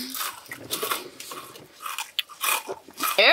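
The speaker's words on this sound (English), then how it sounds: "He was just like obnoxiously chewing." Close, loud crunchy chewing and biting of food by someone on a hike outdoors, in irregular bursts of crunches over a few seconds with no talk.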